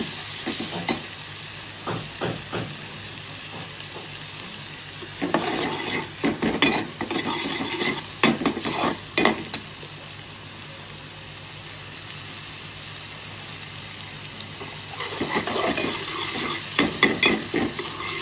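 Green chili, coriander and crushed garlic frying with tomato in a pan, a constant sizzle with bursts of vigorous stirring and utensil clatter against the pan, close and fairly loud, pausing in the middle.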